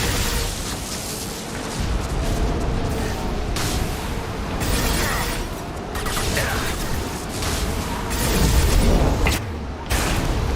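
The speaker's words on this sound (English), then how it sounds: "Watch out, flashbangs!" Flashbang grenades going off during a firefight in Mass Effect 2, dense booming bursts over a continuous roar of battle noise, with a heavier blast near the end.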